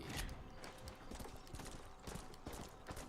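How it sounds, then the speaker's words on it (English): Hooves of a war horse clip-clop steadily in the Western video game Red Dead Redemption, a continuous trotting rhythm of close, muffled hoof strikes with faint creaks over about three seconds. "There's a horse."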